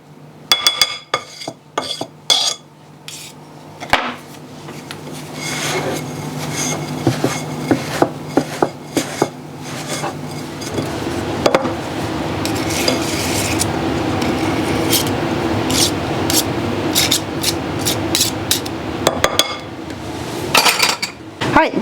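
A knife scrapes and clinks against a mixing bowl while working apple coffee cake batter loose, with rapid irregular metallic taps and rubbing, close and fairly loud.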